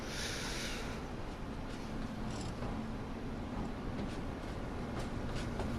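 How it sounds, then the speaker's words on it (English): A train rolls into a station on a Sunday morning, a steady, loud rumble and hiss of wheels and engine, with a brief high squeal near the start and continuous broadband noise throughout. "Looking at the train coming in."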